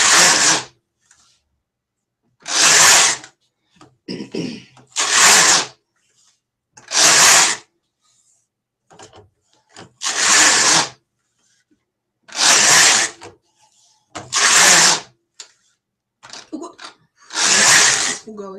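A flatbed knitting machine knitting rows of a hat with ear flaps, its carriage swept back and forth in repeated loud bursts, about seven passes with quieter clicks and rustles in between.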